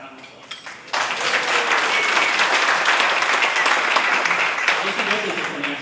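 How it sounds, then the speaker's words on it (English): A brief remark opens a Rotary club meeting, then a roomful of people breaks into sustained clapping to welcome a new member, loud and even for several seconds before fading slightly. "Round of applause."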